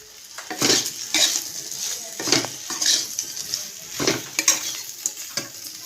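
Shrimp and okra (bhindi) being stirred in a hot frying pan, Bengali-style home cooking: repeated scraping strokes of a spatula against the pan over a steady oil sizzle, with occasional metallic clinks, close and fairly loud.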